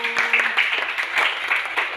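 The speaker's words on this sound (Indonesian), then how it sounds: "tepuk tangan buat temanku" Children in a classroom clapping for a classmate, a short burst of brisk, slightly rhythmic group claps at close range, fairly loud and even throughout.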